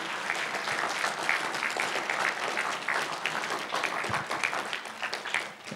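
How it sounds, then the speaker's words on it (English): Congregation applause at a Sunday morning church service, a steady, dense wash of clapping from many hands that fills the room continuously for several seconds with no talk over it. "the Messianic Rabbi, Dr. Mike Hertz, would you just give him a round of applause and give him appreciation and thanks?"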